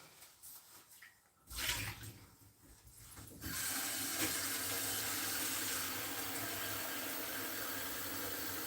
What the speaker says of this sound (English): let's add some more water to this